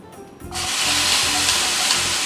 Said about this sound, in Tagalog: kailangan na natin igisa itong tomato natin